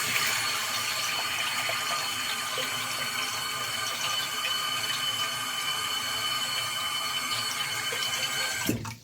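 Steady, loud rush of water running from a tap into a bathroom washbasin being unblocked, continuous and close for several seconds before cutting off abruptly at the end.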